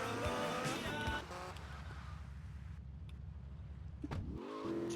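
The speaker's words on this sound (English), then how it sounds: "this car, despite having like the sports car engine sound" The Phoenix sports car in Grand Theft Auto: Vice City revs, settles into a steady droning engine note, then rises again sharply near the end. The engine is loud and fairly close, with no talk.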